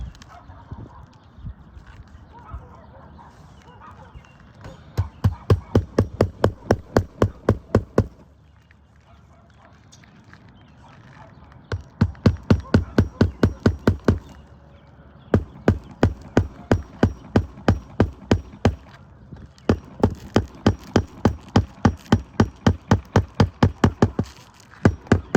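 Nails are hammered into soft wooden decking during a repair, in bursts of rapid, loud, sharp strikes, several clusters of a dozen or more blows separated by short quiet pauses.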